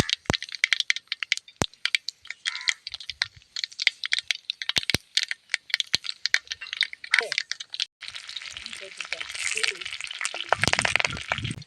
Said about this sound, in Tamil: கடுகு பொரிஞ்சிக்கிட்டு கருவேப்பிலை போடு.